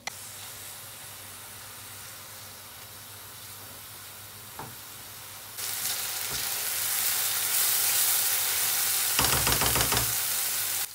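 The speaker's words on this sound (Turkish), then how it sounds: "Soğanı ekleyelim ve 1-2 tur karıştırdıktan sonra sarımsağı da ilave edelim." Onion, then garlic, fries in a pan for a creamy garlic chicken sauce. A low hiss jumps into a loud, bright sizzle partway through, with a couple of utensil knocks and stirring scrapes and no talking.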